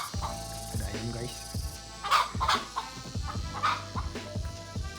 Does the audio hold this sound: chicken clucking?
yes